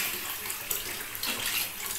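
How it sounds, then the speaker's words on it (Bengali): Hot water pours into a cooking pot for homemade egg khichuri, a steady splashing gush that runs the full two seconds close by, with no speech. "এবার গরম জলটা আমি দিয়ে দিচ্ছি"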